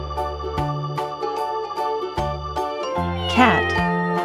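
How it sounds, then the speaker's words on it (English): A single cat meows once, a short rising-then-falling cry near the end, set over a light, steady musical backing with no talking. "Cat."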